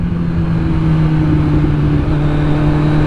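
A Suzuki GSX S1000 motorcycle engine runs loud and close in a steady droning rev with a constant low hum and no talk.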